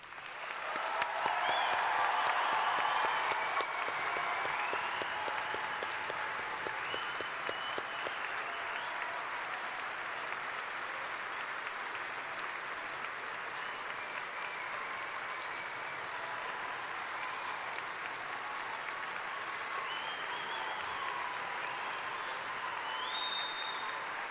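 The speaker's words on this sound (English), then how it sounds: "let's give our graduates one final round of applause" Long, steady applause from a large audience for graduates at a university spring commencement, continuous and even throughout, with faint voices mixed in.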